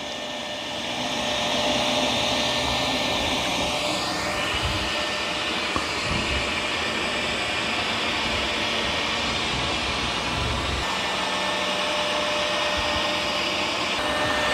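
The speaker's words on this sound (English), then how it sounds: "it did a really good job vacuuming this carpet" A eufy robot vacuum runs on its maximum setting across carpet, giving a loud, steady whirring drone that holds at the same level throughout, with a rising sweep partway through as it turns.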